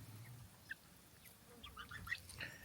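A young female goose kept on a small property with new trees gives a few short, faint honks, scattered and somewhat distant, with no talking.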